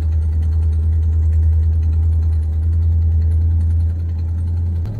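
An old Ford Ranchero engine drones steadily at close range while the truck is driven, its low even rumble dipping slightly near the end as the gears are shifted, with no talking over it.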